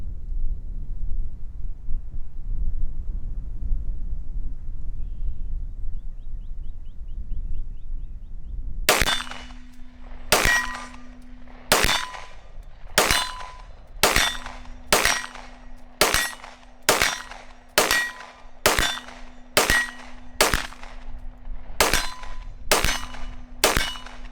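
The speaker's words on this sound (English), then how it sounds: "so I can shoot the bottom of the target with the Masada" Roughly fifteen sharp pistol shots from a Masada handgun aimed at a shooting target, each crack followed by a ringing metallic clang, spaced about one second apart after a quiet windy stretch.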